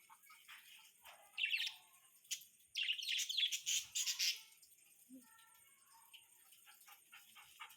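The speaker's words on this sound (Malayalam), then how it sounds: "കിളിയുടെ ഒച്ച കേൾക്കുമ്പോൾ അവന് സഹിക്കാൻ പറ്റുന്നില്ല" Small birds chirp and tweet in quick bursts, some overlapping calls clustered together, fairly close but soft, with quiet gaps between them and no talk.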